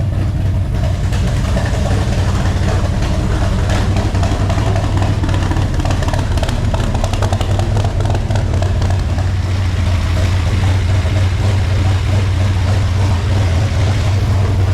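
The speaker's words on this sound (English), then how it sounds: "Big block 396 bored over. And it just sounds awesome." A bored-over 396 big-block V8 in a custom 1959 Chevy Apache truck rumbles steadily at idle with a deep, loping burble, loud and close throughout, with no one speaking.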